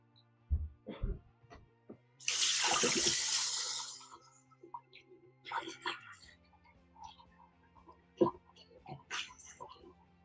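Tap running into a container to fill water for painting sculpts, a loud burst of gushing water for about two seconds amid scattered clicks and knocks, with a person talking quietly before and after.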